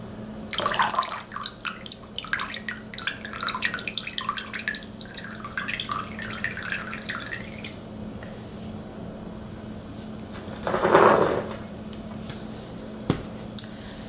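Water drains from watered indoor plant pots into a measuring cup, with a busy patter of drips and trickles for several seconds that fades to quiet, then a brief splashy burst and a single late drip.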